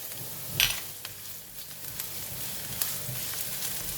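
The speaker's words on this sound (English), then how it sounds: "When the oil is hot, I'm going to fry the garlic" Garlic frying in about two tablespoons of hot cooking oil in a bowl-sized pan for a green dragon vegetable and bean sprout stir fry: a quiet, steady sizzle with a few louder clinks and stirring scrapes.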